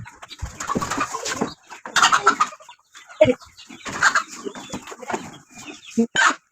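Village chickens cluck and squawk in agitated bursts while being caught, the sounds coming in uneven clusters with short pauses between them and no talking.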